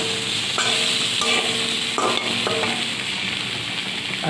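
Peas and vegetables frying in a pan, giving a loud, steady sizzle with the clack of a spatula stirring through them at intervals, close up and with no voices.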